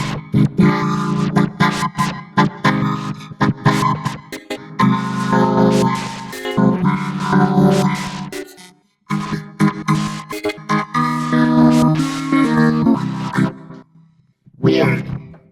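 Electronic music gear on a wave-shaping preset with reverb from an E4, producing loud, distorted, growling tones in choppy bursts with brief gaps of silence.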